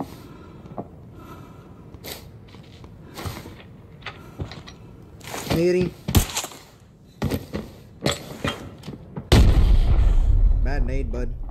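Grenade blast in the shooter game Arena Breakout: a heavy booming explosion lands near the end after scattered gunshots and mechanical clatter, loud and close, with players talking throughout.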